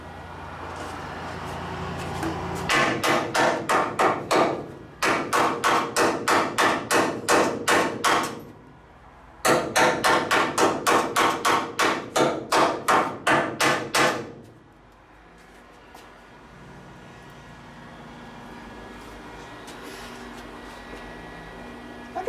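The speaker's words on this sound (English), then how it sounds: "Let me get the hammer, and I'm just gonna hammer on all that." A hammer pounds rapidly on the metal frame of a bed trailer, three long bursts of loud, evenly spaced ringing strikes separated by short pauses, then quiet with faint background hum.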